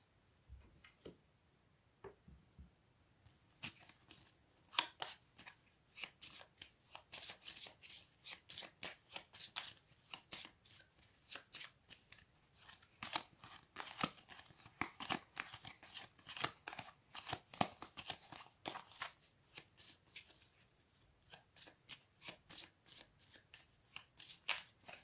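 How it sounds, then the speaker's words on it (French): Cards from the Tapestry board game being shuffled by hand, a long run of quiet, rapid riffling and flicking bursts close up with brief pauses, no one talking. "Et ensuite, on remélange toutes ces cartes."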